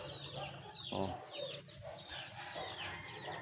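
A Lemon Sweater gamefowl broodcock, just bathed, clucks and murmurs close by in soft, repeated calls over faint background noise.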